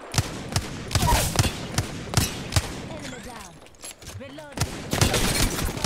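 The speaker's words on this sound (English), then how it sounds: "Why are they shooting at me?" Rapid bursts of gunfire in the Apex Legends video game crack out repeatedly, loud and close, across the whole stretch, with a brief quieter lull midway before heavy shooting resumes.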